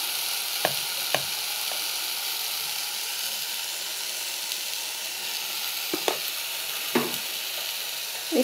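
Spices fry in oil in a pan for egg curry as turmeric goes in. A soft, steady sizzle and hiss runs throughout, with a few scattered clinks and stirring scrapes and no talking.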